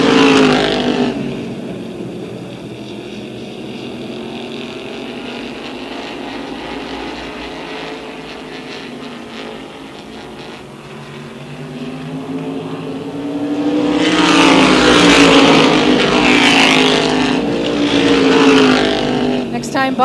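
Race cars at Tioga Motorsports Park, a sustained engine drone under a loudspeaker commentator's continuous voice, then louder engines swelling as the pack roars past near the end.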